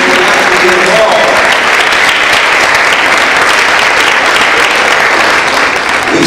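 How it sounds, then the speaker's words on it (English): Loud, sustained audience applause from a crowd at a school fitness challenge event, a dense wash of clapping holding steady throughout. "How about a round of applause?"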